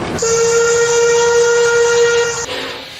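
The Mary Valley Rattler steam train sounds one loud, sustained whistle blast lasting over two seconds, close by, followed by a fading rumble.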